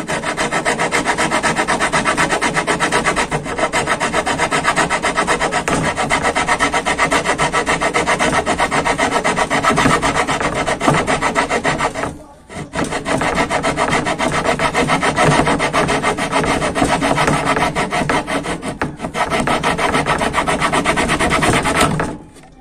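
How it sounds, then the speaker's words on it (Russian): Homemade hand jigsaw blade sawing through wood, a loud continuous rasping stroke with steady rhythm, one brief pause midway, no talking. "Вот, все, можно пилить."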